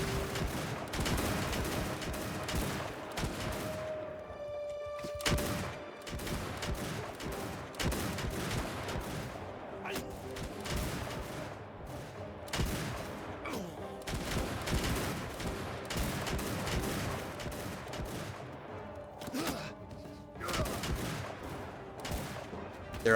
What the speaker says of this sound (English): They fire individually, so we're able to keep a constant stream of fire